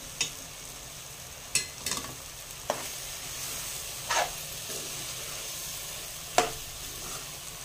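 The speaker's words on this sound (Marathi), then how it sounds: "आणि भाजी घालायची परतून ठेवलेली. मिक्स करून घ्यायचं." Peas and pre-sautéed vegetables for methi matar malai stirred in a pan, a soft steady sizzle broken by a handful of sharp spoon scrapes at irregular intervals, close and fairly quiet.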